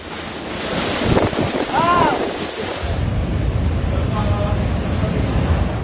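Strong, blustery typhoon wind roaring over a steady broadband rush of heavy rain during Typhoon Pepito in the Philippines, with brief voices and a faint whistle-like tone in the mix.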